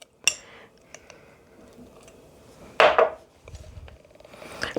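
Cooking shortening is packed into a jar and pressed down, giving scattered scraping, a sharp clink of a utensil against glass and a louder rubbing scrape midway, close and fairly quiet between sounds, with no talk.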